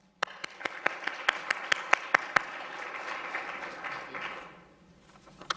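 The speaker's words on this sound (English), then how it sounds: "So let's give them both a round of applause" An audience in a lecture hall gives a round of applause for speakers on stage; steady, moderately loud clapping with a few sharp nearby claps stands out, then the applause tapers off near the end.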